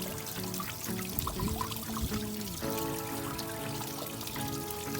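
Pond water poured into a container at a koi pond, a continuous gentle trickling and splashing with shifting pitch as the vessel fills, close and fairly quiet.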